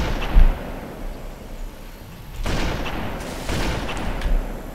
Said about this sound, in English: Getting a little bit better with a sniper rifle after all these years.